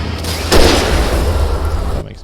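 A single loud gunshot in the video game Alan Wake 2, a sharp boom followed by a rumbling tail that cuts off abruptly, with talk present.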